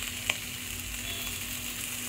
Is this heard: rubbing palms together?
no